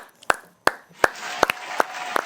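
Separate sharp hand claps ring out on a late-night TV show, about seven crisp, fairly loud slaps at uneven intervals with a faint background murmur between them.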